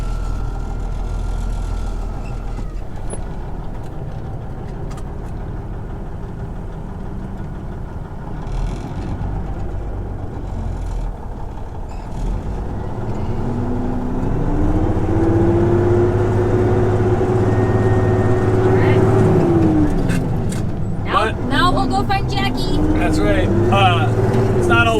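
Forage harvester and truck chopping short silage corn in a field, a loud continuous engine drone and mechanical roar that swells midway with a rising, then falling whine, while a person talks over it.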